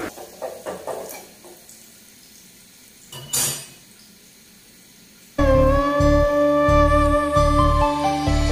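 Garlic frying in oil in a home kitchen before dal is added: a few soft clinks and a brief scrape give way to a steady, loud sizzle with a humming background for the rest of the clip.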